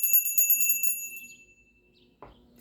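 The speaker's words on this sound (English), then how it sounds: "Let's ring a bell." A single bell struck once, ringing bright and clear with a long shimmering decay that fades over about a second and a half, close and alone, followed by a brief soft knock.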